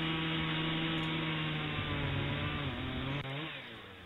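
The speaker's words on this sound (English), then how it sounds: "I've been trying to chainsaw them, switching it out, but you keep firing." Chainsaw in the zombie shooter game Last Stand 2, a steady loud buzzing engine drone that runs continuously before cutting down and tailing off near the end, with no voices over it.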